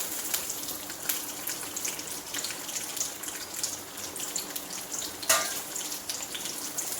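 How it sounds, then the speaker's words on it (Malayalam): Steady crackling sizzle of chopped garlic frying in hot oil, close up, with a brief scrape of stirring partway through. "നന്നായി ഒന്ന് വറുത്തെടുക്കാം."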